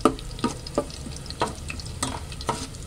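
Onion and garlic sauté in a pan, with a constant frying hiss broken by about six sharp scraping stir strokes at a fairly regular rhythm, close and clear with no talking.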